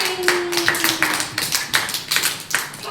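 A group of children clapping in a quick, uneven patter of many hands, steady for a few seconds with no voices.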